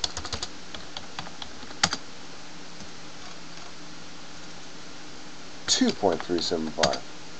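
Computer keyboard keys tapped in a short burst of clicks to enter a dimension value in CAD software, followed by a brief pause and then a person speaking.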